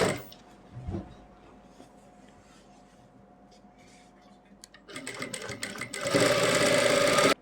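A sewing machine runs a stitch along the centre seam of an Afghani salwar, beginning with soft intermittent whirring before a louder, steady, dense buzz of fast stitching builds near the end.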